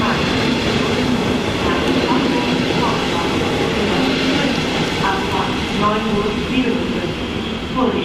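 A train pulls into Essen main station, a steady broad rumble of wheels and rolling stock filling the platform, with faint voices and station sounds mixed underneath.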